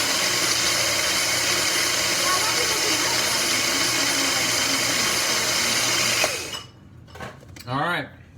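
A countertop blender whirs loudly and steadily while blending a smoothie, running for about six seconds before shutting off, followed by people talking.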